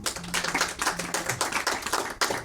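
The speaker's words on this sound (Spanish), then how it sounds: "Dale un aplauso a Dios por esta palabra tan hermosa." A church congregation claps in applause during a Spanish-language sermon, a dense, steady wash of many hands, loud and sustained through the whole stretch with no talk over it.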